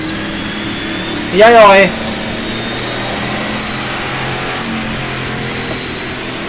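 A NASCAR stock car on cold tyres leaves the pits in the rFactor 2 racing game, its engine a steady, droning hum throughout while someone talks over it.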